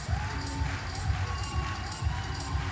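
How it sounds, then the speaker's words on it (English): A crowd roars and cheers wildly at a women's bouldering final at the IFSC Climbing World Championships in Innsbruck, a loud continuous sustained roar with surging shouts throughout. "Crowd going absolutely crazy."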